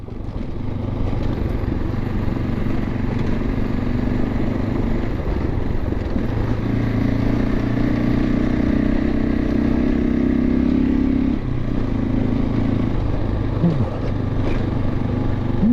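A motorcycle engine drones steadily while riding near Ash Fork, Arizona, with a low continuous rumble, rising pitch as it accelerates, and wind noise throughout.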